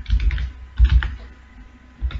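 Quick bursts of computer keyboard keystrokes as a variable name is typed into a C program, clustered in three short runs of clicks with pauses between, close and fairly loud, no voice.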